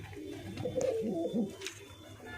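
Soft, low cooing from pet pigeons nearby, a few rounded calls over a quiet background hum.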